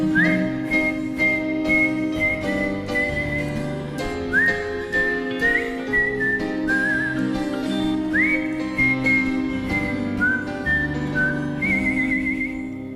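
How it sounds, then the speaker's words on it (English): A person whistles a song melody alone, clear and close, with sliding notes rising into sustained tones and short phrases repeating over a soft background accompaniment. "so it's just whistles"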